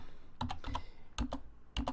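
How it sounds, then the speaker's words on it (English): Close, crisp clatter of fingers typing on a computer keyboard, arriving in quick clusters of keystrokes separated by short pauses, with no voices. "You can type it in."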